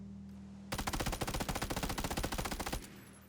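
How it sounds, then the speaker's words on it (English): A submachine gun fires in PUBG as one rapid, evenly spaced full-auto burst of about two seconds. The shots are loud and close, with quiet before and after. "It takes a lot of attachments and really gives you that unique submachine gun feeling once you fire it."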